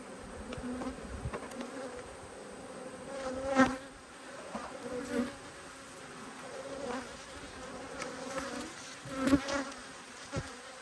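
Bees buzz around an open hive with low bee numbers, a faint, constant drone with individual insects flying close past and fading again, no talking.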